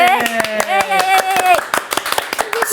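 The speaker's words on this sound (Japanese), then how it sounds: "終わりに近づいてやっと拍手が大きくなってきましたね" Sharp, separate hand claps from a studio audience on a Japanese K-culture entertainment show, rising in strength beneath a sung or spoken melodic line.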